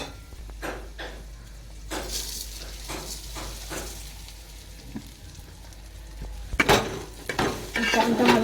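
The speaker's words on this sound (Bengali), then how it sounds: "চালটা ভালো করে নেড়ে নেব।" Spiced rice for Basanti pulao being stirred in a pan with ghee, cardamom, cinnamon, cashews and raisins: repeated scraping and stirring strokes over a faint sizzle, getting busier and louder toward the end, with no talk.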